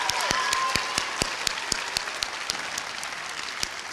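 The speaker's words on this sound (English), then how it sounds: "Can we give one more round of applause for Miss Hunt's homeroom?" An audience claps steadily for a homeroom class at an elementary school promotion ceremony, a dense, sustained round of applause with scattered sharper individual claps throughout.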